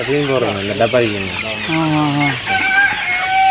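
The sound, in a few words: native country chickens clucking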